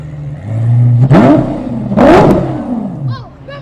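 A Gen 1 Lamborghini Gallardo pulls out of a car show, its engine revving and rising in two loud close bursts before fading, with a crowd and voices around.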